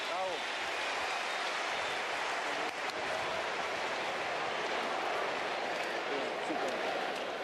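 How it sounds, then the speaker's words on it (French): A big stadium crowd roars and applauds in an ovation for Lilian Thuram at the 2008 France versus Rest of the World match, a dense, steady wash of noise that holds from start to finish. "Et l'ovation pour Lilian Thuram."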